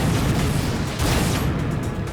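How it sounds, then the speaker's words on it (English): Rocket explosions in the Unreal: Return to Na'Pali video game, with a dense, continuous barrage of blasts and booming bursts filling the whole moment and no talk over them. "Is that a flak cannon? No. Nope, those are rockets."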